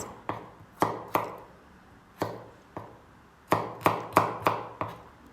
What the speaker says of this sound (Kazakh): сарымсағымызды да майдарақ қып турап аламыз